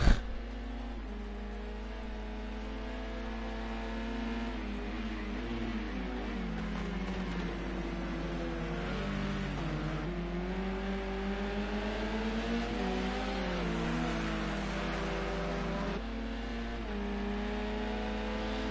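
Touring car engines in Project Cars 2 at Oulton Park drone loudly and continuously, pitch sliding up and down through gear changes as the cars race, with no talk over them.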